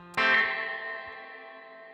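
A guitar run through a Headrush Spring Guru reverb pedal: one strummed chord rings out alone, then a long stereo reverb tail decays smoothly over two seconds.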